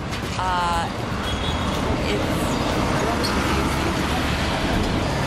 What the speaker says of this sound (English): There's a lot of traffic and a lot of people walking in front of you